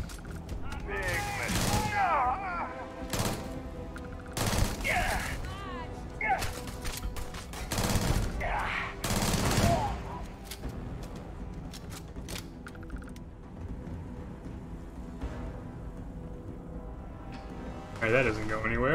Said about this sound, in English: the amount of explosions isn't very cool